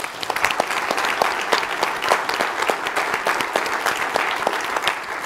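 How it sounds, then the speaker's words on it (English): An audience at a veterans' event on desegregation gives a sustained round of applause, many crisp individual claps blending into a steady, fairly close patter with no speech. "So a round of applause for Aries Mister."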